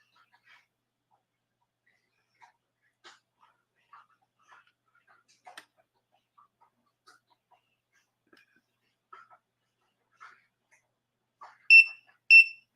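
Electronic gem tester used on sterling jewelry gives two short, sharp beeps near the end, after long quiet stretches with only faint small handling ticks.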